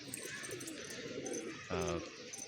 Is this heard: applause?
no